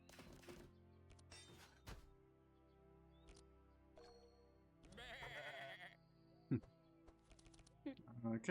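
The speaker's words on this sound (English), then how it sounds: "we've got some angry sheep to deal with" Angry sheep in the video game Across the Obelisk: a few short, quiet bleats scattered among game clicks and keyboard taps, with a louder burst of effects midway.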